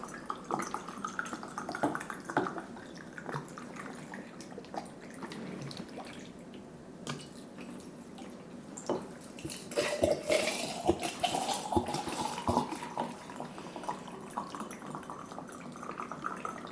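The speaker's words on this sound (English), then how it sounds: "I'm going to fill these jars to about a ½ inch" 80-proof vodka pours into glass jars, a trickling, splashing flow with drips and small clinks, uneven in strength and swelling louder toward the latter half, no talk.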